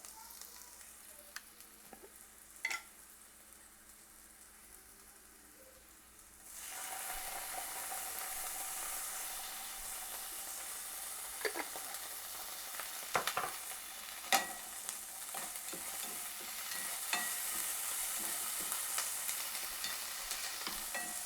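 Ginger garlic paste dropped onto caramelized onion in a pan for chicken clear soup, a quiet stretch then a sudden loud sizzle that holds steady, dotted with sharp pops and spatters, close and alone.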